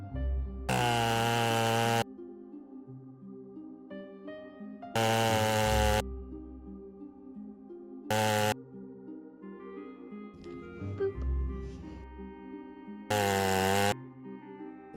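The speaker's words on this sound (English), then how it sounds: "it's a cut the head off with the chainsaw" In DOOM: The Dark Ages, a chainsaw shield finishing kill roars in four loud revving bursts, each a second or so long, set against sustained game music with quieter gaps between.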